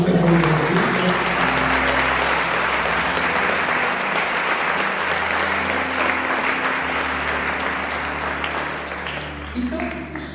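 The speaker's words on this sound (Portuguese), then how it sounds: "Quem crê pode aplaudir o Senhor Jesus." A church congregation applauds at a worship service, dense sustained clapping close and loud throughout with a low steady hum beneath, fading slightly toward the end.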